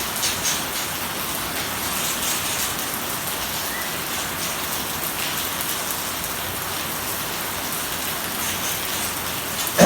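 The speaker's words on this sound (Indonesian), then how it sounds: "Ini akhirnya terjadi hujan teman-teman." Steady rain falling after a solar eclipse, a dense even hiss of drops on surfaces that holds at a constant level throughout with no voices.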